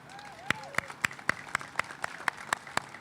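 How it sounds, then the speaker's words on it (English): Sparse, spread-out clapping from a small outdoor crowd at a groundbreaking ceremony for an affordable housing project, about ten distinct claps at a steady rhythm with some voices in the background. "So can we please give them a round of applause?"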